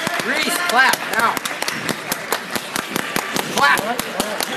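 Crowd clapping at a Hibbing versus Virginia high school basketball game, a loose rhythmic patter of hands in a gym, mixed with constant voices talking and shouting close by.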